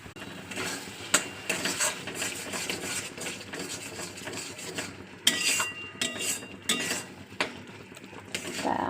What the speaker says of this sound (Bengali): কমিয়ে দিয়ে তারপরে ভাজতে হবে, নাহলে একটু ছিটকে যাবে